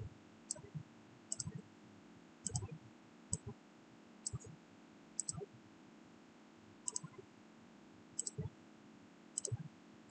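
Soft computer mouse clicks while selecting surface features in meshing software, arriving singly and in quick pairs at a steady pace over a low background hum, faint and close.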